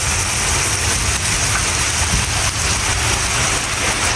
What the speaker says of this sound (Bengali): আর এদিকে দেখো তো বৃষ্টি শুরু হয়ে গেছে